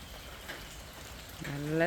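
Steady rain pours down outside a house, a constant soft hiss of drops, and a voice begins talking near the end.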